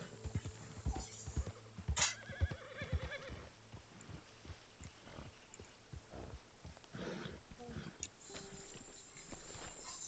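In Red Dead Redemption 2, a horse gives a loud whinny while hooves clip-clop in a quick, uneven rhythm, then further snorts and hoofbeats follow against a faint ambient background.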